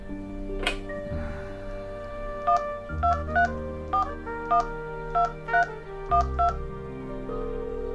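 Telephone keypad tones as a number is dialled, about ten short beeps in an uneven rhythm after an initial click and handling noise, close and clear, with no talking.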